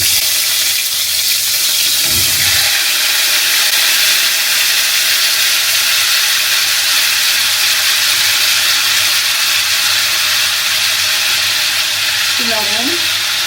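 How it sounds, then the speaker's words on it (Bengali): Kohlrabi and potatoes fry in oil left over from frying fish, giving a constant loud hiss and sizzle that runs unbroken, with a brief clatter near the start and a short tonal squeak toward the end. "মাছ ভাজা তেলে ওলকপি আর আলুগুলো একটু ভেজে নেব"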